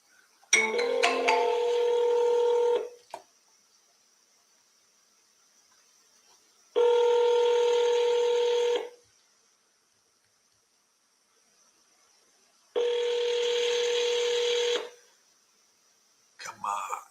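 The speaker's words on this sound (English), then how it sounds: "let's double dial" A telephone call placed during seller cold-calling rings out on the line as three long, even buzzing tones, each about two seconds, separated by silent gaps, ending with a brief clatter.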